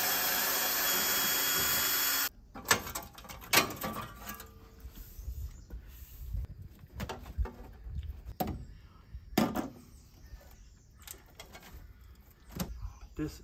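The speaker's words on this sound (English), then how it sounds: "I'm going to have to grind that down and then to get rid of the head of it" Grinding down a bolt head on a vehicle during brake work, a steady harsh grind for about two seconds that cuts off abruptly, followed by scattered metallic clanks and knocks.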